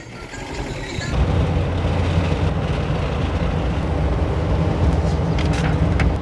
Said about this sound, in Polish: I kolejny Fiacik wjeżdża na linię naszego startu.